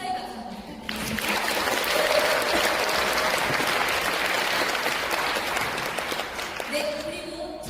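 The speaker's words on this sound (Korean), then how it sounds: "이 행사를 마련해 주신 본사 임직원분들과 각 그룹장님들께 감사의 박수 부탁드립니다." A corporate event audience breaks into loud, dense clapping that swells within a second and holds steady for several seconds, then thins out as a voice returns over the fading applause.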